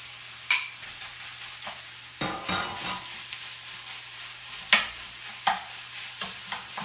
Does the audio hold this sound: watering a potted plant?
no